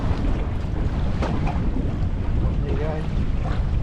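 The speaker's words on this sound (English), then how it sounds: "I am struggling with the worst wind against tide" Strong wind buffets a fishing boat on the water against the tide, a loud continuous roar of wind and surf close to the microphone, with a faint voice beneath.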